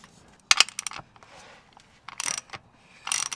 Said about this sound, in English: I'm now going to use a 10mm Allen bit to loosen up the fill bolt